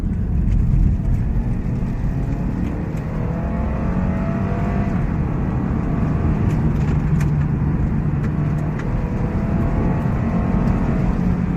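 The 2-liter turbocharged engine of a Lexus IS 200t F Sport drones steadily under acceleration, heard from inside the car as a continuous loud rumble with road noise and no talking.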